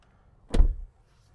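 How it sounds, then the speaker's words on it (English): The door of a Ford Maverick XL pickup truck shuts once in a single close, solid thud against an otherwise quiet cabin. "But then I closed the door."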